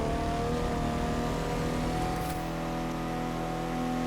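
The engine of an 1800 hp Koenigsegg Gemera sports car in the video game The Crew 2 drones at a steady, high revving pitch around 120, continuous and loud, with a slight shift in tone partway through.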